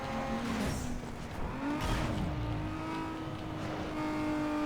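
Modified Nissan 350Z with carbon fiber detailing racing in NFS Underground 2, its engine revving and shifting through rising and falling pitches, with brief tire squeal, steady and up close.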